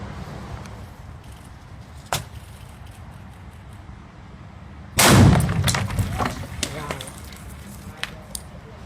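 A firework mortar tied beside a dummy head explodes with one loud, sharp blast midway, followed by crackling and scattered pops, after a small snap earlier; the surroundings are otherwise quiet.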